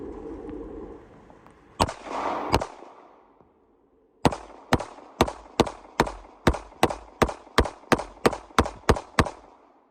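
Sharp pistol shots from a 1911 handgun ring out, two spaced reports followed by a steady string of about a dozen evenly timed, loud shots, close to the listener with brief echoing tails between them.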